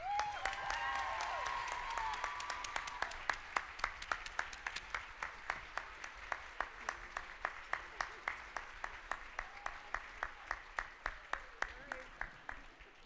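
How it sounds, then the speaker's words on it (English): Applause from a crowd at a charity runway fashion show, dense at first with a few voices, then settling into steady, evenly spaced claps that continue to the end. "Let's all give a huge round of applause"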